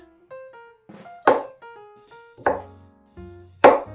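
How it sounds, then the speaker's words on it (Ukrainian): A knife cuts broccoli florets off the stem on a board, producing three sharp, close chopping thunks spaced about a second apart, with soft tonal scraping and clinks between strikes. "Нам треба з брокколі пообрізати всі оцей кінчик, кістячок, чи як він називається."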